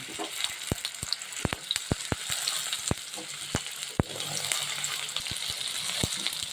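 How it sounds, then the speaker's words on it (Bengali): Taro and potatoes frying in a little oil in a wok give a steady close sizzle, broken by frequent sharp ticks and pops from spoon or spatter throughout. "কড়াইতে আমি একটুখানি তেল দিয়ে এই যে কচু আর আলুগুলো কেটে রেখেছিলাম না কচু আর আলুগুলো দিয়ে দিই"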